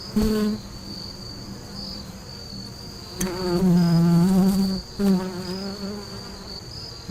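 Honeybees buzz around wooden beehives during winter preparation, a steady close insect drone with swelling bursts as individual bees fly past, heard alone without talk.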